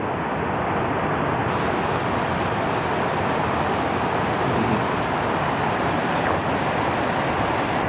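Ocqueoc Falls, partially frozen amid snow, pours in a steady, dense roar of rushing water heard up close, unbroken and uniform for the whole stretch.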